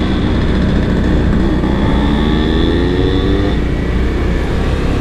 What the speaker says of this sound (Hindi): मोटो ब्लॉगिंग अंदाज में हम निकल चुके हैं आज छोटी सी राइड के लिए